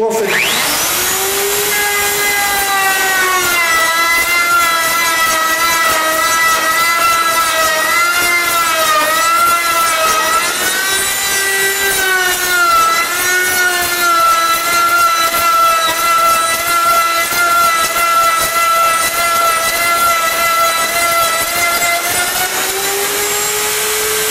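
A small Bosch 1670 router cutting wood on a turning jig, a loud continuous high-pitched motor whine with a steady tonal hum that dips slightly under load as it chews through the wood, running throughout.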